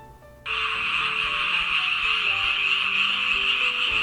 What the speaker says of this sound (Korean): 집집마다 개구리 소리가 들려옵니다